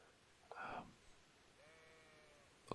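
Sheep bleat in Kingdom Come: Deliverance, a single fairly loud bleat near the start and then a fainter, thinner call, over a quiet background of steady rain.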